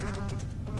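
Dense, continuous drone of a swarm of buzzing flies from the video game Corpse Party, loud and close as if right at the ears, steady throughout with no voices.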